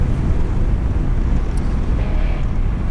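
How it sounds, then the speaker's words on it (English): Steady low wind rumble outdoors, softened by an Audio-Technica powered microphone with strong wind reduction, on a solo motorcycle camping trip in Japan with a KTM 390 Adventure; a continuous broadband wash of air with no voices. "the wind is just highly reduced here, so much better wind reduction"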